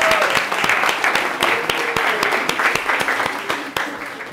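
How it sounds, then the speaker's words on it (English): Audience applause after a Halloween costume contest, dense steady clapping from a crowd filling the whole stretch, fairly close and loud with a few sharper individual claps standing out. "let's give a round of applause to them"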